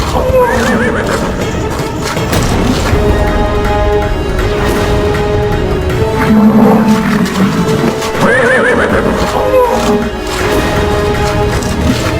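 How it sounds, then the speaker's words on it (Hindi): Horse neighing loudly in a mythological battle scene: several shrill, shaking whinnies ring out over a dense, rumbling backdrop with hoof clatter and dramatic noise, close and forceful throughout. "अश्व की ध्वनि इतनी तीव्रता से क्यों हिनहिना रही है ये?"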